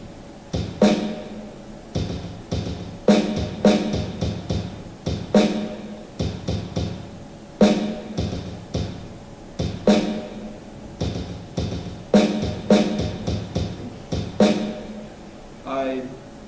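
Drums join organ and choir music in a production: kick and percussion hits land in a steady repeating pattern over a sustained chordal pad, moderately loud throughout.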